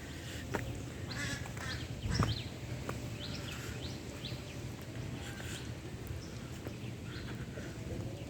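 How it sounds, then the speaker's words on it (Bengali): Ducks and other birds call repeatedly around a village fish enclosure, short quacks and chirps scattered through a soft, steady outdoor hum, fairly faint and unhurried throughout. "চারিদিকে পাখির ডাক"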